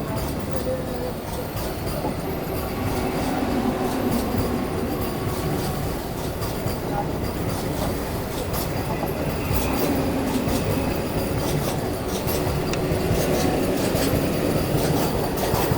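A Vande Bharat Express races at full speed through Jajpur Keonjhar Road railway station, a loud unbroken rushing roar of wheels and rails with faint squeals, steady from start to finish.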